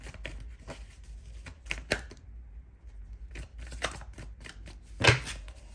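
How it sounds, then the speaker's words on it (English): Several bursts of tarot cards being shuffled and riffled, close up and fairly quiet, with short pauses between the flurries. "I may have to shuffle"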